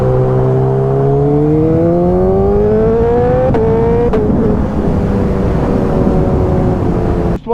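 A Nissan GT-R engine revs loudly and close, pitch climbing steadily through the gears, with sharp pops near the middle and end.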